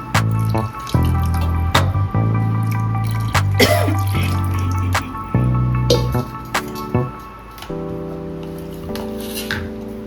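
Water runs and splashes into a mixer jar as it is rinsed in a kitchen, with drips and sloshing over a steady background tone and no voices.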